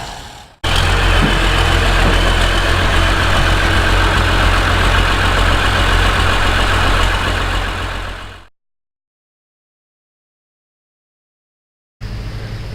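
A sled tractor's engine idles at a tractor pulling event, a loud, steady low rumble with constant hum that runs for about eight seconds, drops to silence, then resumes near the end.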